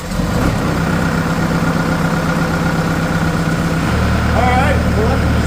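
A New Holland C232 skid steer runs at a steady, loud idle, a constant low diesel rumble with a slight shift in tone partway through.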